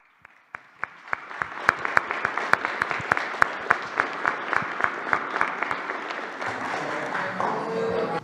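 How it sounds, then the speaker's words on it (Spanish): Applause at a Mexican presidential press conference, opening with a few separate claps that grow into a steady round of sharp, rhythmic clapping at moderate distance before fading. "Un aplauso"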